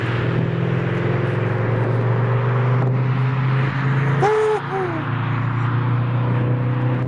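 A 2021 Skoda Octavia RS with a 245 hp 2.0 TSI engine cruises in sport mode, giving a steady, low engine drone heard from inside the cabin, with a brief chirping tone near the middle.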